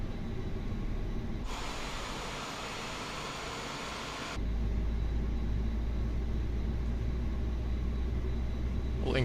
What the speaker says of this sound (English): And the first officer is now starting our engines.